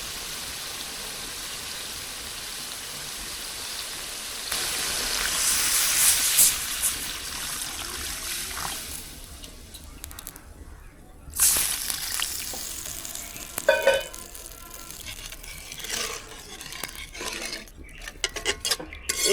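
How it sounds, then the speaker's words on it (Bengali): Coconut milk poured into shrimp frying in oil for a curry with taro stems, hissing sizzle that swells and then settles, with clinks of utensils and pan knocks nearby. "এখন নারকেলের দুধ দিয়ে দেবো"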